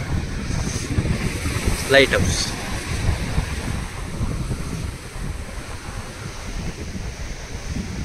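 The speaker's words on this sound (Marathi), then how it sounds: "हा समुद्र" Sea surf washing onto a Konkan beach at Achara, a constant broad roar of waves mixed with heavy wind buffeting, while a person briefly speaks partway through.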